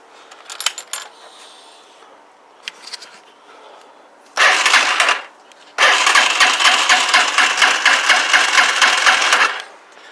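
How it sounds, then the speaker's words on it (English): A Huoniao HN125 motorcycle engine cranks in a few short bursts, then catches and runs at a steady, loud idle, close by, with no voices. "So what I'm going to do is start the engine and see if that rotates."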